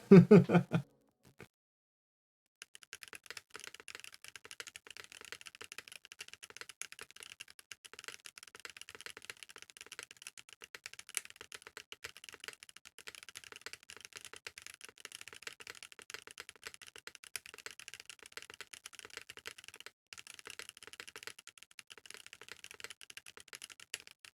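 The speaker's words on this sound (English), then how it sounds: "Let's do one more typing test." Rapid, continuous typing on a KBD8x MKII mechanical keyboard fitted with Boba U4T tactile switches, close and crisp keystrokes clattering steadily for over twenty seconds after a brief opening sound.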